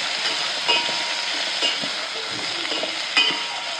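Onions, drumsticks and tomatoes frying for sambar, a close, loud steady sizzle broken by a few scraping stirs of the spoon against the pan, with no talking.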